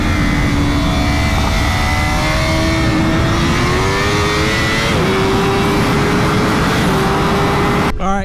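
An Aprilia or Honda superbike accelerates hard on a race track, its engine revving high and loud through several gear changes as it pulls away under strong wind noise.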